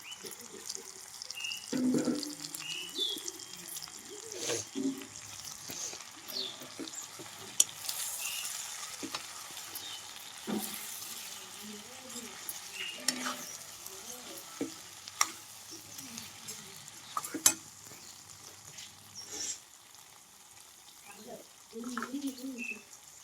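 Ginger garlic paste frying in a kadai, a soft continuous sizzle with occasional stirring clinks and taps, faint and steady, while a voice talks intermittently.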